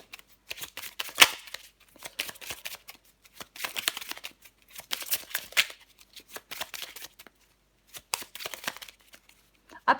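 Tarot cards shuffled during a card reading, in repeated short riffling bursts of papery flutter separated by brief pauses, close and fairly quiet.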